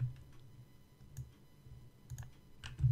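Typing an amount on a computer keyboard while playing a Roblox game, heard as a few faint, scattered key clicks against a low background hum.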